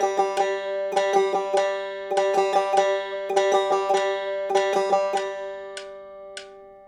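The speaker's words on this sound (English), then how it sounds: "What you can also do is just try playing a triplet followed by a quarter note." Bluegrass banjo picking single-string triplet licks, each triplet followed by a quarter note, in repeated short bursts with bright plucked attacks and ringing tones, played alone for about five seconds before a couple of sparse final notes.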